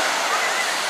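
Sea waves wash onto Patong Beach in Phuket as a steady, loud broadband surf roar with no distinct breaks, filling the whole stretch.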